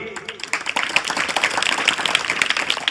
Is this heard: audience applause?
yes